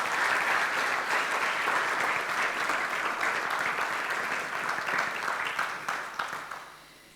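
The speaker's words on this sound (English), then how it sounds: "Please give him a round of applause." An audience at the Drawing of the Year 2016 award ceremony for architectural drawings claps steadily for a third-prize winner. The sustained, dense applause fades slightly near the end.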